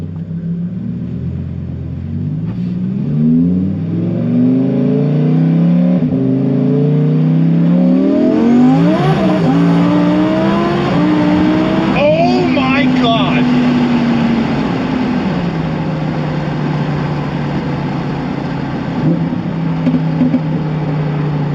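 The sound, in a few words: Lamborghini engine revving on first drive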